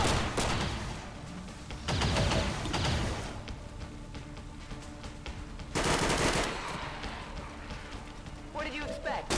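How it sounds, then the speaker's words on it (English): Bursts of rapid automatic gunfire in the XCOM 2 video game, dense and continuous with louder volleys, alongside game sound effects. "It puts shots downrange."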